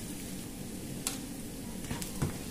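Garlic and onion sauté in a pan for adobong pusit, a steady low sizzle with a few soft clinks of stirring, quiet and close, with no talk.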